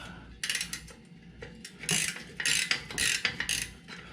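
A wrench loosens the axle bolt on a 2018 Fat Bob motorcycle, giving several rapid ratcheting bursts with short mechanical clicks between them, close and fairly loud.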